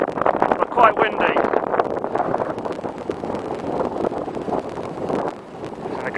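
Strong wind blows at Everest Base Camp on the north side, a constant rough buffeting rush against the microphone with gusty surges, while people talk over it.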